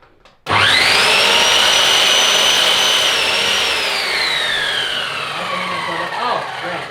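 A $100 Jasper sliding miter saw spins up and cuts through wood, its loud high motor whine holding steady for several seconds before slowly dropping in pitch as the blade winds down.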